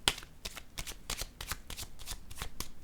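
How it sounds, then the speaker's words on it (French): Playing cards set down and handled on a table during a card game, a quick, uneven run of crisp slaps and flicks close by, with no voices. "Je vais déposer une carte sur celle-ci"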